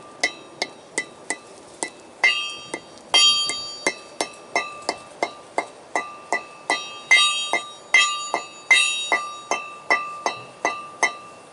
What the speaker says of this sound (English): I don't really mind using a regular hammer and just kind of slowly tapping my way around